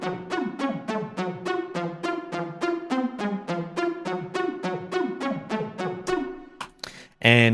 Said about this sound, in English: So that synth layer sounds like this.